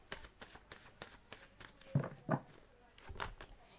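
Tarot cards are shuffled and handled in a Hindi reading, producing soft repeated riffling and flapping bursts at a steady rhythm, close and fairly quiet.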